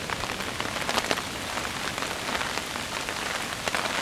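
Heavy rain pours down outdoors at a wild camp in windy weather, a dense, steady hiss with scattered louder drops spattering close by and no voices.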